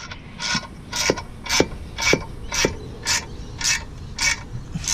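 A ratchet tightens the clutch bolts during an R31 manual conversion, giving about nine evenly spaced rasping clicks, close and fairly loud with no talk.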